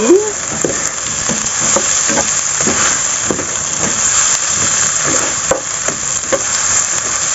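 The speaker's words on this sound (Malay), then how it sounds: "kita dah tumis. Bagi dia sebati." Ingredients for fried rice vermicelli sauté in a hot pan, with loud, close, continuous frying sizzle and repeated scraping stirs of a spatula against the pan.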